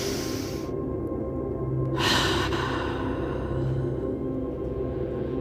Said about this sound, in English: Nice inhales and exhales.